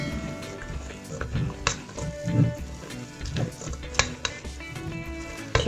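Lotus Biscoff cream being folded in a bowl with a spatula, repeated soft scraping and occasional sharp taps against the bowl's side, close and fairly quiet, with some faint background noise.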